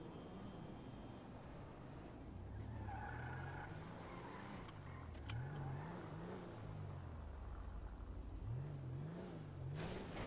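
A Silverado in GTA drives with its engine revving up and down in repeated rising swells, alongside tire squeals and a constant rumbling road noise.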